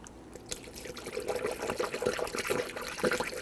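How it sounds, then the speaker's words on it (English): Coolant pouring through a funnel into the radiator of a 2006-2014 Honda Ridgeline, a steady close liquid gurgle and trickle with small splashes, no talking. "Go ahead and fill this up with the appropriate coolant recommended for the vehicle."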